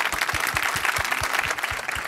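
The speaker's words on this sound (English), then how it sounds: "A round of applause for Keren Elazari." Audience applause at a hacker-culture conference talk, a steady, fairly close round of clapping that runs evenly throughout without fading.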